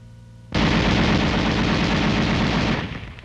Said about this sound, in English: The gun continues to fire as long as the trigger is depressed.